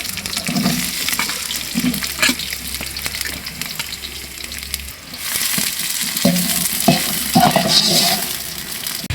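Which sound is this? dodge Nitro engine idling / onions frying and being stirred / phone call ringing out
onions frying and being stirred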